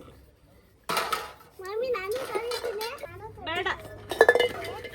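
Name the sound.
washing dishes, pots clinking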